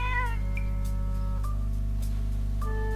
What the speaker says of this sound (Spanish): Zelda está hablando con gatos